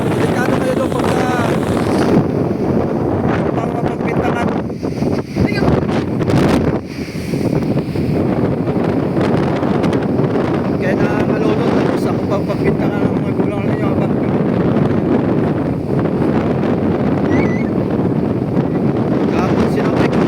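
Powerful wind sweeps a sea shore lined with boats, constant roaring buffeting with surf beneath, while someone talks loudly over it and the gusts briefly dip and return.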